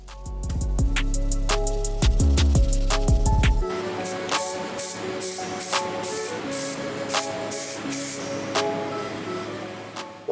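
Primer sprays onto car wiper arms in short hissing bursts, each press giving a sharp spray under music, with the rhythm of repeated quick pulses across the clip.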